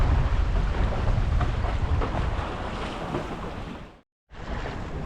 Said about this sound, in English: There's some really big sets of waves coming through there.